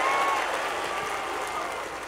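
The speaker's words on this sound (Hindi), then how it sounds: "दोनों हाथ खड़े करके तालियां बजाइए" Audience clapping at a Hindi comic poetry recital: a steady wash of many hands applauding throughout the short stretch, with a faint voice or tone briefly above it at the start.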